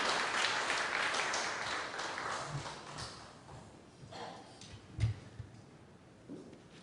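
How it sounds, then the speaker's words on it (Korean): Church congregation clapping to welcome the preacher at a Sunday service, a dense round of applause that fades over a few seconds, leaving scattered light claps and faint room noises. "박수로서 환영하겠습니다"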